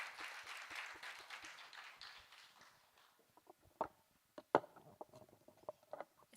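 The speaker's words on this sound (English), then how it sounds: "I think the applause must go on" Applause from a conference audience, moderately loud at first, tapers after a few seconds to scattered individual claps and a few louder taps in a quieter room.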